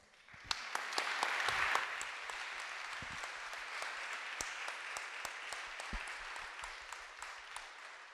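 Sustained audience applause after a conference presentation on leaking massive datasets, a dense wash of many hands clapping at moderate distance with scattered sharper claps standing out, swelling early then holding steady to the end.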